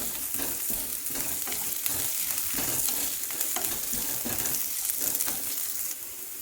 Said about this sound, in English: Now I will add the garlic, the crushed garlics. I will roast this also for half a minute,